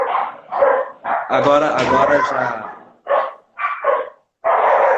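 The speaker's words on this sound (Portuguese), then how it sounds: "Minhas cachorras agora começaram a latir." Pet dogs bark indoors in bursts, a few yaps and a longer loud stretch of barking mixed in, while someone talks over and between them.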